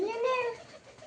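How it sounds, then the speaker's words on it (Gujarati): A single pigeon coos once at close range, a brief rising-and-falling call that fades into quiet background noise. "સરસ મજાના કબૂતર છે મિત્રો."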